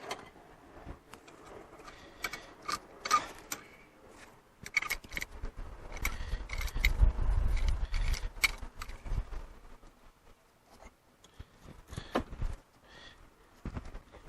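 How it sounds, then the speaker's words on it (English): A C-clamp pushes the brake caliper piston back in on a 2003 Chevrolet Monte Carlo SS during a brake pad change, giving scattered close metallic clicks, taps and rattles with brief scraping bursts. "Oh, gotta push the caliper in. Don't forget to push the caliper in. That's why you're gonna need a C-clamp."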